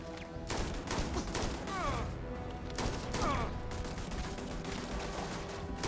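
Turret gunfire in the Starfield video game, rapid bursts of automatic shots in several clusters, fairly quiet and distant, mixed with laser-like whooshes and combat noise.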